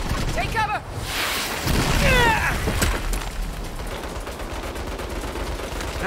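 Turret gunfire in the video game Saints Row 2: a few sharp bursts cut through busy combat noise, peaking around the middle, with voices talking over the action.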